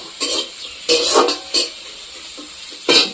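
Chilies, onion, ginger and garlic fry in a pan with a constant close hiss, broken by four loud bursts of stirring and spatula scraping.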